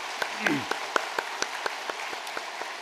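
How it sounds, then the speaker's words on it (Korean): Church congregation at a Christmas service clapping in a steady, evenly spaced rhythm, each clap distinct and fairly quiet, with a brief voice sounding near the start. "두 분이 인사할 때 우리 박수로 보내드리겠습니다"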